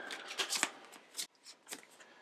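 A deck of cards being shuffled by hand, several quick riffling bursts with short pauses between them, close and fairly quiet.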